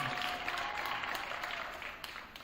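An audience at a school winter awards ceremony applauds the sports medicine staff, a steady wash of many hands clapping that sounds somewhat distant and fades slightly toward the end.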